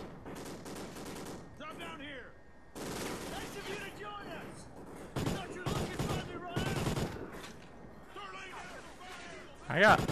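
Gunfire rings out in a Call of Duty: Ghosts campaign battle, bursts of automatic fire and single shots popping at middle distance under steady chatter from a player talking throughout.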